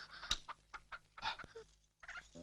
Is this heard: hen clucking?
yes